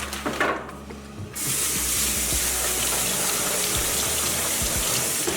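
Steady rush of running tap water pours over fruit being washed for a Grand Marnier cranberry sauce, starting after a brief quieter moment with a few clinks, then holding loud and continuous with no talk.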